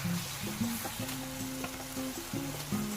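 Beef quesadilla filling simmering and stirred in a pan, with a soft, continuous sizzle and light stirring under a melodic tune playing in the background.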